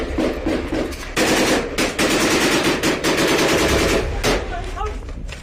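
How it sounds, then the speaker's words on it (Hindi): Sustained automatic gunfire from fighters in combat footage near Jabalia, loud rapid bursts with brief pauses between them, continuing throughout under faint background voices. "गोलीबारी शुरू कर देते हैं।"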